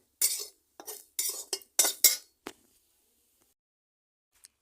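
A metal utensil scrapes and clinks against a pan as fried food is lifted out, about seven sharp bursts in quick succession, then near silence with one faint tap.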